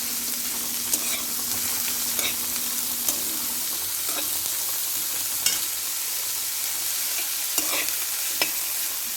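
Ghee tempering sizzles and fries in a pan with a steady crackling hiss, broken by sharp clinks of a spoon stirring and scraping every second or two, close and alone with no talk.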